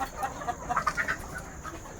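Desi country chickens on a farm cluck softly in short, scattered calls, several birds overlapping at moderate distance over a quiet background.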